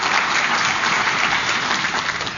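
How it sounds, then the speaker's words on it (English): Audience applause for board members at a child abuse prevention breakfast, a steady, dense wash of many hands clapping at full strength throughout, with no voices over it. "Let's give them a round of applause for serving alongside us."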